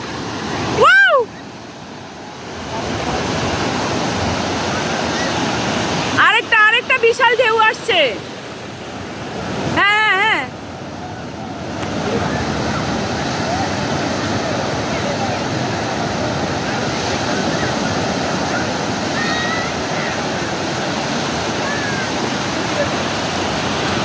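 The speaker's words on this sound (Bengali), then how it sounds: "জোয়ারের জন্য যে জলগুলা বেড়ে গিয়েছে এখন অনেক বড় বড় ঢেউ আসছে" Big waves break on Laboni beach at Cox's Bazar at high tide, a continuous roaring surf rushing close by, with bursts of wind noise on the microphone and brief talk early on.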